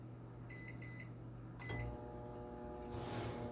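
A microwave oven hums steadily while heating about a gallon of water in beakers for sterilizing phytoplankton culture media, with a few electronic beeps early on and a door or latch clunk midway before the drone continues.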